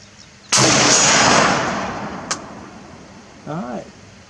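A single loud, close rifle shot from an IMI X95 chambered in 5.56x45mm, cracking sharply and then decaying over about a second, followed by a faint click and a brief voice.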